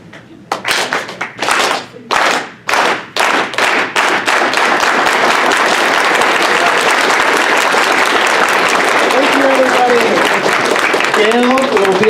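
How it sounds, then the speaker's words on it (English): A gathered crowd at a Delano book launch for a Larry Itliong biography performs a unity clap: slow, separate claps in unison that quicken and merge into a continuous roaring ovation, with voices rising near the end. "it's a slow clap that starts in unison together, and then it builds to a roaring crescendo"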